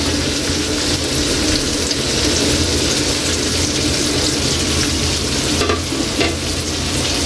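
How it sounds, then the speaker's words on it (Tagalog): Garlic and onion frying in butter in a pan, a loud continuous sizzle with stirring scrapes throughout, close and with no voices. "Lagay na natin yung bawang. Lagay na natin yung sibuyas."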